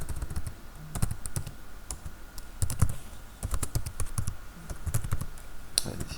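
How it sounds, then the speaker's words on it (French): Keystrokes on a computer keyboard, typed in quick irregular bursts with brief pauses between them, close and fairly loud, with no one talking. "Décidément j'ai du mal avec ce clavier."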